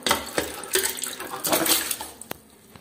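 Water splashes and gurgles as it is poured into a cooking pot for a village-style aloo gosht with shorba, sounding in uneven surges with a sharp metallic clink near the end.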